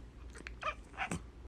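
A human voice imitates a cat's wheezy, asthmatic purring in a few short raspy bursts, quiet and close.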